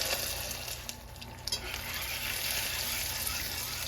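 Whisking a sweet potato pound cake batter flavored with imitation almond extract in a bowl gives a steady, continuous swishing and scraping with a few small knocks, fairly close and with no talking.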